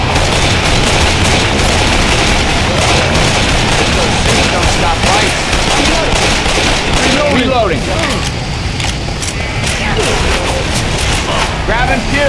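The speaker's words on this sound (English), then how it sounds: "Let's try shooting zombies instead of people, okay?" Dense, loud gunfire while shooting zombies in the video game Left 4 Dead 2, with rapid overlapping shots and bursts going on without pause and voices calling out underneath.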